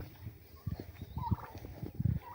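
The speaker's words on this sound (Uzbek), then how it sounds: "Kurkalarimizni." Turkeys gobbling nearby in a poultry pen, a series of short rough bursts in quick succession, moderately loud against a quiet background.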